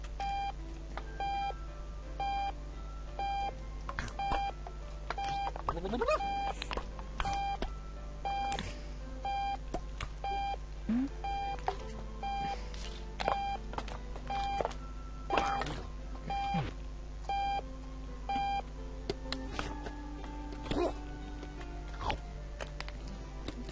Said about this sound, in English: Find the alarm clock and turn it off.